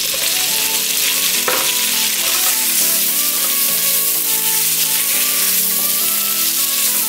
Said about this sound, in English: Just stir fry or saute them